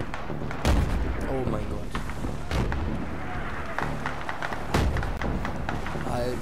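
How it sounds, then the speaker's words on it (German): Explosions and blasts in Battlefield 3, with heavy booming thuds and bursts recurring across the scene amid dense battle noise, while someone speaks German over them. "alles sprengt in die Luft. Alles wird auch noch in die Luft gesprengt."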